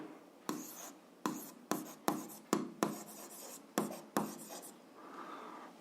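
A pen or pencil scratches on paper while an algebra exercise is worked out, about a dozen short strokes in an irregular rhythm, close and clear, with no talk.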